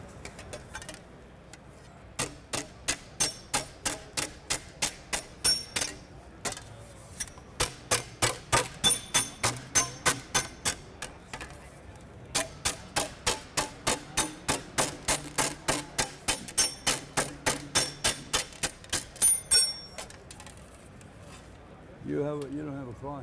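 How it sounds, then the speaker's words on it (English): Rapid bursts of sharp metallic slaps from a spoon used as a slapping tool to shape sheet metal, struck in quick rhythmic runs with short pauses between, loud and close. "I'm gonna take a spoon, regular spoon, you know, but I'm gonna use it as a slapping tool"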